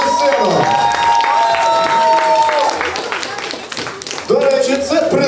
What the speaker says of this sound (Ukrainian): Оплески всім, хто зараз.